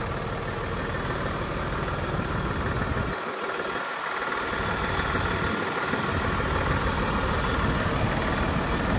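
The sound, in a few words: Hino RM bus engine idling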